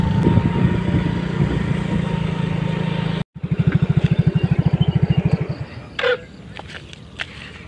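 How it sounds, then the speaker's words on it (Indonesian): A motorcycle circles a sports field, its engine droning steadily before a brief cut, then chugging in a fast, regular pulsing beat that fades out, followed by a short scrape and scattered small knocks. "Sekarang muterin lapangan dulu sama motor."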